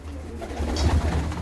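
Red-necked pigeons in a loft give low, throaty coos close by, a soft rolling murmur that swells slightly toward the end.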